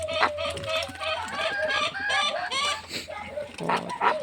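A flock of farmyard poultry clucks and squawks busily at feeding time, the calls close, overlapping and continuous.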